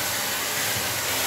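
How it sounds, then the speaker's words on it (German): A household vacuum cleaner runs continuously with a steady, loud broadband whooshing roar, alone and without talk. "Oh Mist, dieser blöde Staubsauger."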